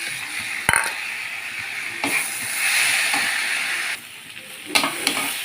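Potatoes and masoor lentils with green chillies sizzle in a pan, a steady frying hiss broken by several sharp clinks and scrapes of a spatula stirring close by.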